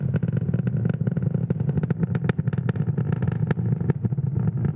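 Falcon 9 rocket roaring as it climbs through supersonic flight during a night Starlink launch, a dense, steady low rumble with crackling bursts, continuous and loud throughout.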